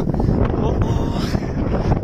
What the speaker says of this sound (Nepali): हावा पनि राम्रो आउँछ